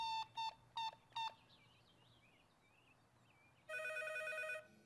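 A cartoon telephone rings in four short, evenly spaced bursts, followed by a quiet pause with faint chirpy warbles, then one longer, brighter electronic ring tone before it cuts off.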